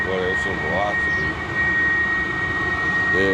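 A diesel heater runs steadily, blowing hot air with a strong, continuous rushing roar at close range that holds level throughout, while a person talks over it.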